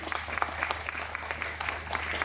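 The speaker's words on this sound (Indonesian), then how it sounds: "Iya, mohon tepuk tangan untuk Mbak Gun." Audience applause for a performer at the opening stage show of a festival, a brief burst of steady clapping from a crowd, moderately loud and even.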